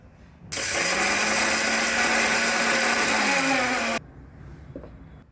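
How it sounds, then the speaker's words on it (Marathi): A kitchen mixer grinder coarsely grinds roasted rice in a single loud, steady whirring burst of about three and a half seconds that starts and stops abruptly, its pitch sagging slightly near the end. "मिक्सरला भरडसर अशी ही तांदूळ आपल्याला इथे वाटून घ्यायची आहेत"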